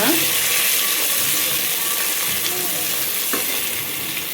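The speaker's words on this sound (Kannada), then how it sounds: "Next onion ಹಾಕೋತಿದ್ದೇವೆ. ಇದನ್ನು ಫ್ರೈ ಮಾಡೋಣ." Onions sizzling in hot oil in a pan for vegetable pulao, a loud continuous close frying hiss with faint stirring scrapes, no talk.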